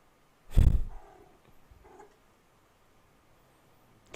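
A house cat lets out a strange, non-meowing noise: one loud, short, guttural burst, then a couple of fainter chirping grunts, all close by in a quiet room.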